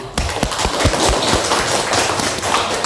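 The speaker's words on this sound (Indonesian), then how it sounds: "Beri aplaus buat Adinda." An audience claps for Adinda at a cybercrime awareness session, dense, steady applause with sharp individual hand claps close by, lasting the whole stretch.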